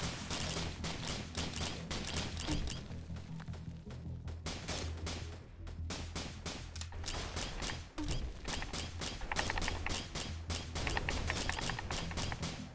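Rapid gunfire from the roguelike video game Risk of Rain, a dense, continuous stream of sharp shots layered over game music, steady and loud throughout with no pauses.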